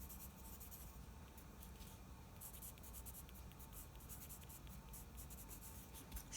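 Pencil cross hatching on paper, a steady scratchy scraping of graphite strokes heard close up and fairly quiet, continuing without pause and with no talking.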